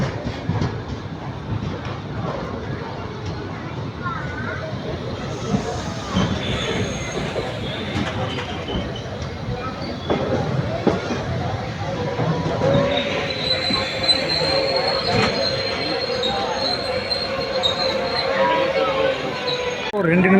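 A crowded passenger train pulls away from Ernakulam station, rumbling as its wheels let out sustained metallic squeals that rise and hold toward the end, with voices faintly audible under the rail noise.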